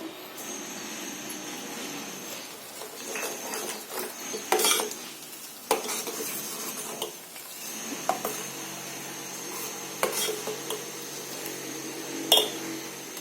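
Fennel seeds tipped into hot oil with reddened mustard seeds for an amla pickle give a soft, close sizzle, broken by spoon clinks and stirring scrapes against the pan.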